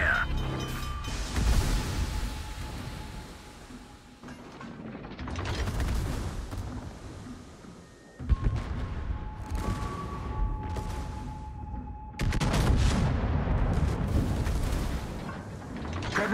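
Main guns of a super battleship with sixteen guns firing in a naval video game, several heavy booming salvos with rumbling tails, loud and close, separated by quieter stretches.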